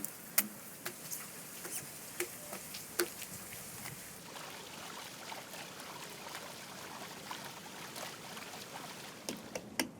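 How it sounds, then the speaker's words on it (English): A fork pricks pizza dough on a round metal tray outdoors, giving faint, irregular light taps and clicks over a soft steady background hiss. "Right now, I'm pricking the dough with a fork to ensure it cooks evenly."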